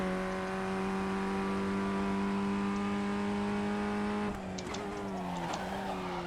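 A Formula 1600 race car engine at Okayama holds a steady, loud drone of stacked harmonics for about four seconds, then the pitch wavers and stutters, dipping and rising in short revving bursts after a missed clutch.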